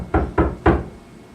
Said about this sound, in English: they heard the big bad shark knocking at their door